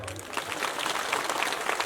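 Applause from a crowd at a national Christian fellowship gathering, a brief steady patter of many hands clapping at moderate distance.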